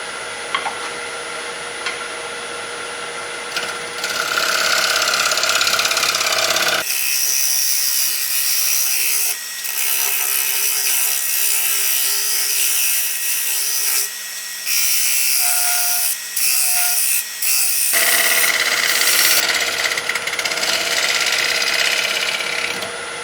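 A pine wood bowl being shaped on a lathe makes a loud, steady whirring scrape that cuts in and out in long passes as the tool meets the spinning wood.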